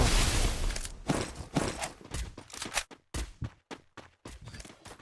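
Gunfire in a battle royale video game: a dense rolling volley that breaks into rapid separate shots and short bursts, loud and close, with no talk.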